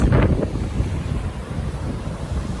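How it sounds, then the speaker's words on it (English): Steady, heavy wind buffeting the microphone at Emerald Lake or Takakkaw Falls, British Columbia, a low continuous roar throughout with a brief gustier burst near the start. "Super windy though."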